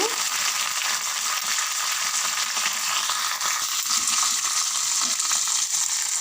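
Garlic and cumin tempering for sambar fries in hot oil with a loud, continuous crackling sizzle, close and unbroken, with faint stirring scrapes beneath and no voices.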